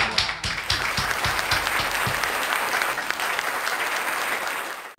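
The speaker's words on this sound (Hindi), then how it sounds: "कविता समाप्त हो गई तालियां बजा दीजिए" An audience at a Hindi poetry gathering applauds after a poem, a sustained wash of clapping at moderate volume that holds evenly before stopping at the end.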